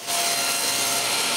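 Power saw cutting an oak-fronted varnished wooden shelf shorter, a loud continuous rasping whine that starts abruptly and holds steady for about a second and a half, close by with no talking.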